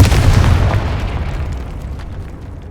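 Confringo fire spell exploding in Hogwarts Legacy, a single loud deep boom that hits at once and rumbles away over nearly three seconds, alone without talk.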